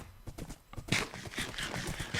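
Horse hooves clip-clop in a video game, a quick run of light, evenly spaced hoofbeats at moderate volume with no talking over them.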